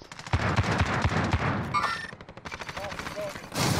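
Rapid bursts of video game gunfire, a string of evenly spaced loud shots followed by further shooting and game effects, with some background sound throughout.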